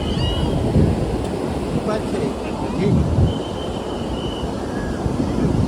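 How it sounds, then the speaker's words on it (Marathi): Stormy high-tide sea waves at the Kunkeshwar shore, a loud, continuous roar of surf mixed with heavy wind buffeting the microphone, with faint distant voices. "भरती एकदम तुफान भरती या ठिकाणी आलेली आहे"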